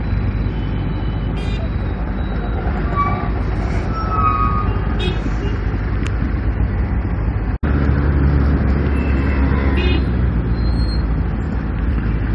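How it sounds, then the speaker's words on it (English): Steady roar of road traffic from a motorcycle ride, with passing cars and trucks forming a continuous broad rumble close by, plus wind noise throughout. "Traffic. Oh wow."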